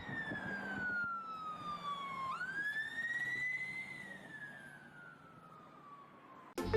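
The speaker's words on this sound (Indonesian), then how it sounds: "Di sini ada mobil ambulan." Toy ambulance siren wailing in one long sweeping tone that falls, jumps up and slowly glides down again, thin and close against a quiet room, ending with a sharp click.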